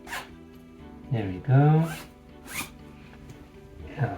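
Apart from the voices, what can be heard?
zipping up a baby's sleep sack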